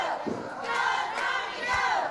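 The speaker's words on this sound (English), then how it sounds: "The crowd trying to get behind him, trying to pump him up here." A wrestling crowd in Nashville chants and cheers for Tommy Rogers during a televised NWA match, with rhythmic rising shouts swelling in waves through a reverberant arena.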